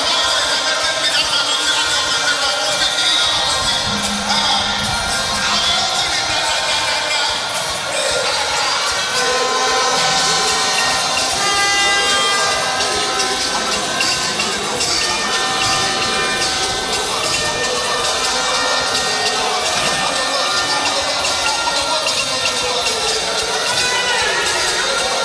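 A dense crowd of boxing fans cheers and roars continuously at an arena before a bout, a loud, sustained wash of voices and shouts throughout.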